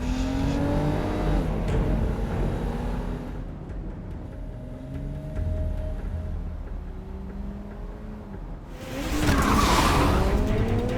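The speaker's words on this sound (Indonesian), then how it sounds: "Mobil yang Hornclaw kemudikan kehilangan kendali pada satu tikungan tajam" A film car loses control on a sharp bend, with a tonal tire squeal and engine roar rising to a loud, harsh skid burst near the end over dramatic background sound.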